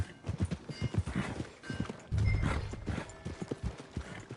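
Horse hooves clip-clop in Red Dead Redemption 2, a steady run of close, distinct thuds with a short whinny-like burst in the middle, no talk over them.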